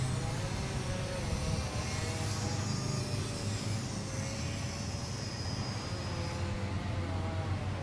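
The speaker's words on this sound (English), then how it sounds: "There's a nice slow flyby for you here." An Ares Nano Micro Stick 75 electric RC plane makes a slow flyby, its thin propeller whine rising and falling softly over steady outdoor wind noise.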